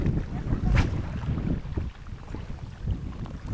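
Strong crosswind buffets the microphone at a fishing spot, a steady low roar of gusts with one sharper rush early on, loud and close, no talking.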